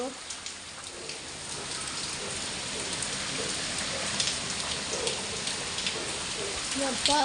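Heavy rain falls during a windy afternoon storm, a steady close roar of drops hitting surfaces with occasional sharper splashes, while voices talk faintly underneath.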